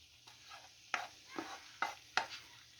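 Meat tipped into a pan of hot peppers for fajitas, sizzling and stirring in a few sharp bursts over a steady low frying hiss, close and moderately loud, with no talk.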